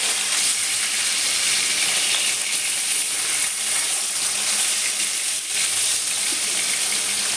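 Rohu fish frying in oil in a pan gives a steady, loud, close sizzle that holds without a break throughout, with no voices over it.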